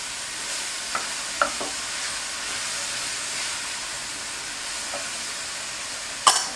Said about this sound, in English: we're going to let these mushrooms cook for about 10 minutes or until they're brown